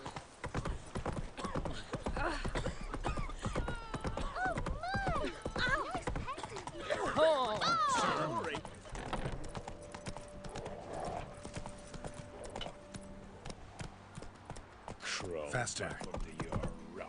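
The horse Roach galloping in a video game, a steady rapid clip-clop of hooves with a whinny partway through, under a voice talking over the action.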